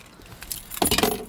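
A car key fob for a 2024 GWM Tank 500 Lux dropping, a brief metallic clatter and jangle near the mic, sharpening after a quieter rustle.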